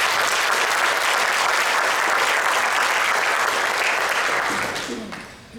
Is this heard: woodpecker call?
no